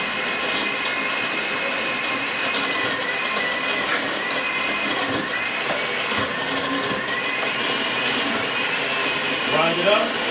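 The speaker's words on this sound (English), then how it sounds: "Get this nice and blended." A blender grinds ice for a fat-burner drink, a loud continuous whirring motor roar with rattling ice that runs throughout, with a voice faintly under it.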